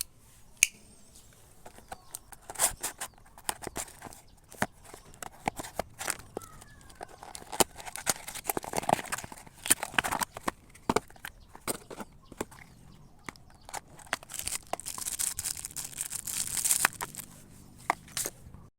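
A folding knife made in China is unboxed up close: scattered sharp clicks, taps and crinkly packaging rustles come in irregular bursts, with no talking.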